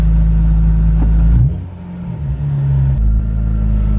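A car engine idles with a deep rumble, dips as the car shifts into gear, then settles into a steady drone as it pulls away.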